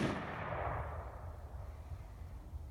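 Rifle volley fired by an honor guard at a military funeral service at Fort Logan, a single loud report at the start followed by a long decaying rumble and echo across open ground.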